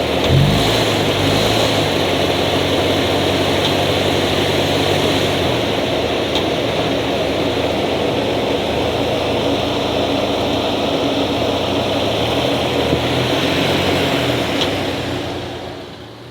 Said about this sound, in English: they show the perfect example of a torque converter stalling out